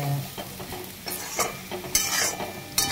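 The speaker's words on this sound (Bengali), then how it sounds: "দেখো নেড়ে নেবো, বেশি আবার ভাজলে কিন্তু ফ্লেভারটা চলে যাবে ধনের আর" Whole coriander seeds and black peppercorns dry-frying in a pan and being stirred, close and fairly quiet, with scraping strokes and soft sizzle bursts recurring through the short span, no voices.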